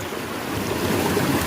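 Sea waves heard from a boat, a steady rushing wash of water mixed with wind buffeting the microphone, continuous and fairly loud with no voices.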